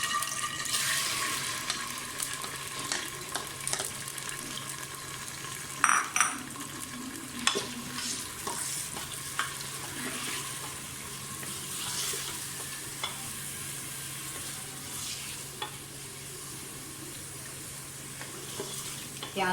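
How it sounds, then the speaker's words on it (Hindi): Onions frying in oil for chicken nihari, a continuous soft sizzle with occasional light stirring clicks and scrapes, fairly faint and close. "प्याज को अच्छी तरह से फ्राई होने दें।"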